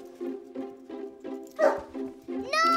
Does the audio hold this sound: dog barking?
yes